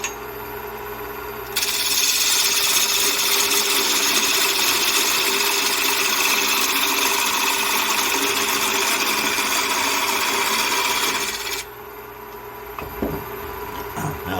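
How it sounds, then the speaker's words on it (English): A parting tool cuts into a spinning wooden hummingbird house blank on a lathe, making a loud, steady, rough hiss of about ten seconds over the motor hum. The cut stops abruptly, leaving the motor running with faint knocks. "I'll just take a parting tool, come and cut in here, about where I want the top to end."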